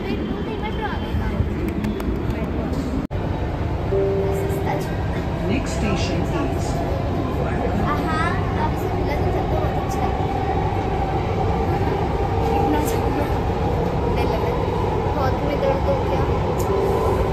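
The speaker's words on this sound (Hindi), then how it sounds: "वाह मेट्रो का वेट, मेट्रो आ गया।" A metro train arriving rumbles and clatters steadily, with a sharp mechanical clunk early on and some tonal whines as it moves and slows.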